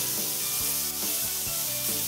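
Strips of sweet pepper, onion and Texas jalapeno sizzle steadily in a hot pan, a close hiss with a few soft scraping and tossing sounds.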